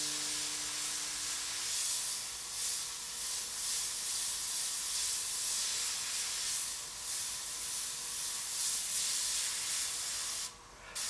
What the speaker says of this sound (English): Keep your airbrush pointed in so that you control the overspray